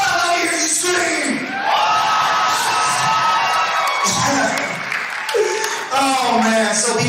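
An audience at a stand-up comedy show screams, whoops and cheers loudly, with scattered applause, in a continuous roar of crowd noise.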